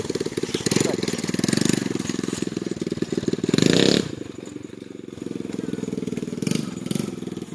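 A TaoTao 110 small-displacement engine runs steadily with a buzzy, rapid putter that swells briefly in revs, close up and loud, with some mechanical clatter.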